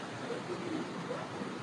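Water from a stream flows over rocks at a natural pool in Sri Lanka, a steady, soft rushing wash that holds even and unbroken throughout, with no voices over it.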